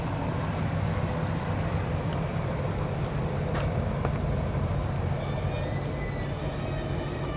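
A 2001 Kenworth truck engine rumbles steadily through 7-inch Lincoln straight pipe stacks, a loud, continuous low drone with no break across the whole stretch.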